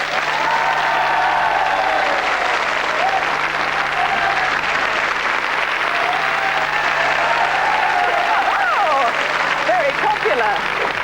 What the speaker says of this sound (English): you seem to get the best applause